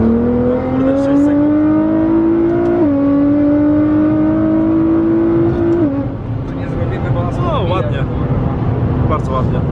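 A Nissan GT-R accelerates hard on a snowy road, its engine rising steadily in pitch with a couple of quick gear shifts, loud and close from inside the car while people talk over it.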